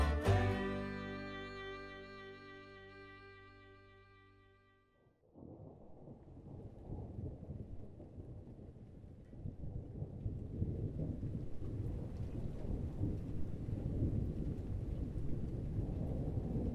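Rain falls steadily at a campsite during a thunderstorm, a dense rushing patter that builds after a sustained tonal sound fades out at the start.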